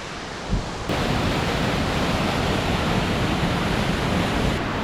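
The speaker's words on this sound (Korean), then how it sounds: "28m 높이의 폭포" A 28 m high waterfall in Plitvice National Park roars as a loud, steady broadband rush of falling water. A brief bump comes near the start, then the roar holds dense and continuous, close and without pause.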